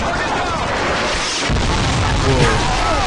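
A big explosion in Call of Duty: Modern Warfare 2 multiplayer, a loud booming blast that rolls out amid steady gunfire and game noise, with voices talking over it.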